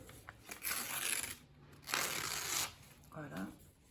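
Two quick rasping bursts of paper edge being cut close by, a short papery rustle between them, and a brief voice at the end.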